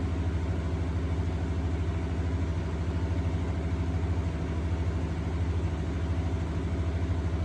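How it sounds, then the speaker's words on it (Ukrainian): A Matari backup generator engine runs steadily after an automatic start during a power outage, giving a constant, fairly loud low hum with an even rhythmic throb throughout and no voices. "Все, працюємо від генератора."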